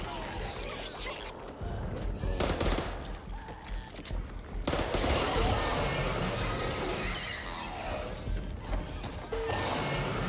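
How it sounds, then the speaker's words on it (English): Gunfire in the co-op zombie shooter Back 4 Blood, with loud, rapid bursts of shots and crashes that come in repeated volleys while players talk over the action. "You're shooting everyone."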